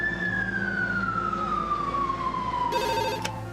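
An ambulance siren wails in a long, slowly falling tone, loud and steady throughout, with a brief ringing, bell-like electronic sound joining near the end.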